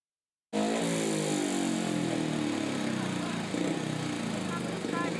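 Speedway motorcycle engines run before a race, a loud, steady, buzzing drone that starts abruptly and holds for several seconds with slight shifts in pitch.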